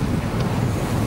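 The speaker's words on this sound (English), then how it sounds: "They're expecting 55 mile an hour winds." Strong wind roars and heavy sea waves crash around a fishing boat at sea heading into a hurricane, a steady dense rush of wind noise, close and loud with no talk.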